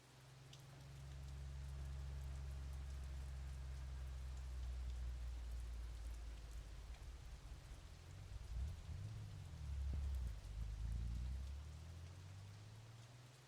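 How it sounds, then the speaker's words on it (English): Steady rain in the video game Long Gone Days, set in a rainy Poland scene, a constant hiss of falling drops with a deep low rumble beneath, loud and continuous throughout, with no voices. "So now we are in rainy, rainy Poland."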